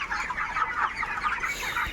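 Chickens clucking in a crowded poultry shed on a hot day, a steady, dense chorus of overlapping clucks and chatter close by, with no speech.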